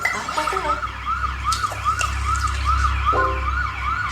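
A wailing ambulance siren sweeps up and down steadily over low rumbling traffic, loud and fairly close, with a couple of sharp electronic yelps mixed in.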